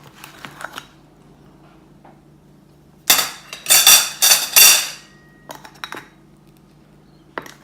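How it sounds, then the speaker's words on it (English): A metal ladle clinks and scrapes against a pot of crab curry, a quick cluster of bright clattering knocks after a quiet pause, followed by a few lighter taps. "I'll just ladle in some of this crab"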